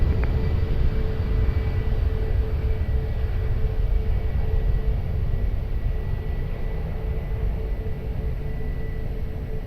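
Lufthansa airliner taking off at Lisbon Airport, a steady broadband engine roar with a faint tonal whine, distant and sustained without pause.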